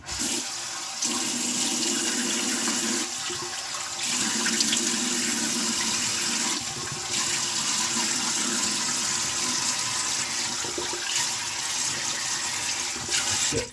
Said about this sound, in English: I'm just going to wash off and prepare my face for the second pass